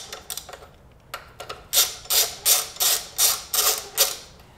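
Ratchet snugging nuts onto studs of a Ford Escape engine mount, a few light clicks then about seven rhythmic, close ratcheting strokes in quick succession, clear with no talk.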